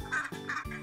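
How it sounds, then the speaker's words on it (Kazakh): A duck quacks in two or three short, nasal bursts, close and fairly loud, with no other sounds around it. "үйрек,"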